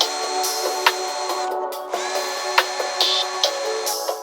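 A power drill with a 6.5mm bit bores a center pop into the corners of a metal part while building a Warn 8274 high-mount winch, a steady high whine broken by short bites and sharp clicks, close and loud.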